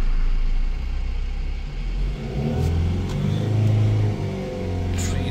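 Engine of a Ford Transit minibus with a DPF fault running steadily close by, a loud continuous rumble with a slight swell partway through and no talking.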